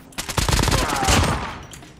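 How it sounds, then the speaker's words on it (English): Rapid automatic gunfire in the mobile video game Call of Duty Mobile, heard as one close, loud burst of fast repeated shots lasting about two seconds. "I'm being shot at."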